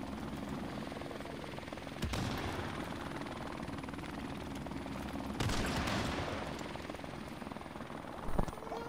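A helicopter in a Call of Duty video game hovers with a steady rotor drone, while bursts of gunfire and a couple of sharp impacts cut through the battle noise.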